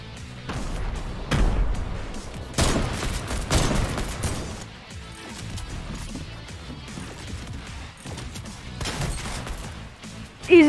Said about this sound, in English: Throwing in some nades